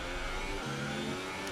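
An F1 car engine in the racing video game F1 2018 holds a steady, loud, buzzing drone at high revs, with a slight shift in pitch partway through and no talk.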